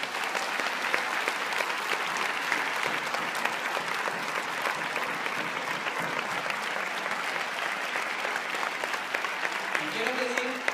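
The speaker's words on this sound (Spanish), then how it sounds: "Pido un aplauso para Joaquín y Lombardo." Sustained applause from a large crowd at a public talk in Alcorcón, Spain, dense and loud, clapping continuously throughout without pause.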